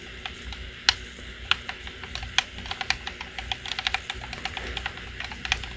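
Sharp plastic clicks and ticks from a GameCube controller's C-stick, irregular and fairly close, with a few louder snaps among quicker light taps.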